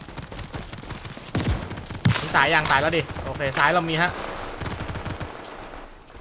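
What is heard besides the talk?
assault rifle gunfire in video game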